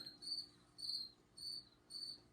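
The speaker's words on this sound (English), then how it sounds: "these crickets are driving me nuts tonight" Crickets chirp at night in regular pulsing bursts, about four trills in a row, shrill and steady against a quiet background.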